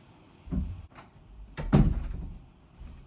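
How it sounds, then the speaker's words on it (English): A door inside a house swings open on its own, giving a soft creak and knock near 0.5 seconds and a louder thump and rattle around 1.7 seconds, close by, with no talking. "That door just opened on its own, so now I'm worried that there's a ghost in the house."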